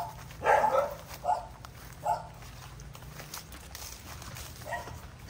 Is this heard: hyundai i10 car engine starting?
no